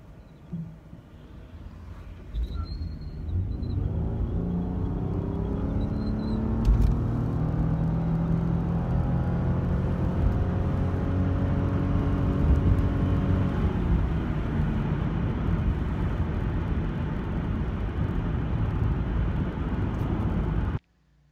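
A Toyota Harrier crossover pulls away, its engine note rising and sweeping through gear changes as road rumble builds into a steady cabin drone, moderately loud with no voices.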